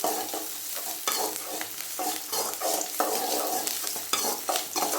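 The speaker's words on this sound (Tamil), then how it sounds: "நல்லா வெங்காயம் வந்து நல்லா வணங்கட்டும். நல்லா லைட் ப்ரௌன் கலர் ஆகிற வரைக்கும் நல்லா வணக்கிக்கோங்க" Onions sautéing in a pan for veg biryani, cooked until light brown: a loud, close, continuous frying sizzle broken by repeated scraping stir strokes about once a second, with no voices.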